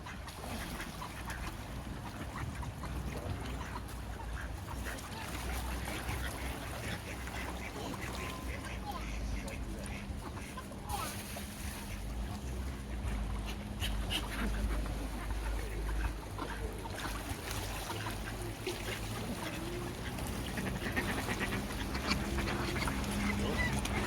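Ducks eating bread give scattered quacks outdoors, intermittent and moderately faint against steady background noise, with people talking nearby.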